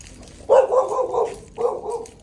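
A dog near a beach barks twice, a first longer bark followed a second later by a shorter one, loud and close, with no talk.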